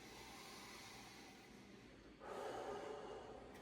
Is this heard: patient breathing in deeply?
yes